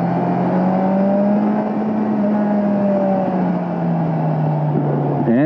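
A 2022 Kawasaki Ninja 1000SX motorcycle is ridden at speed, its engine holding a loud, steady droning tone mixed with rushing wind, and a brief rising rev right at the end.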